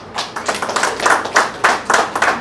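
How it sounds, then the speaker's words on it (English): An audience at a community youth meet and greet claps together, a dense nearby patter of many hands with rhythmic surges that continues throughout. "Why don't you all one last round of applause to these folks."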